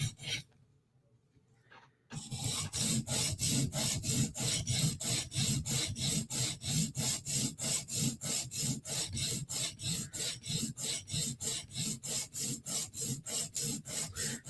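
A Spyderco knife edge is drawn across a sharpening stone in quick passes, a fast, regular run of raspy scraping strokes that starts after a brief quiet and repeats evenly.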